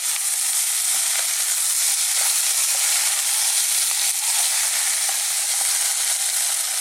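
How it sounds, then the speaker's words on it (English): Onions and potatoes stir-fry on high heat for a Thai pork and potato coconut curry, giving a continuous, bright, even sizzle with faint scraping from the stirring. "Now we're going to again stir fry this on a high heat for about 2 to 3 minutes"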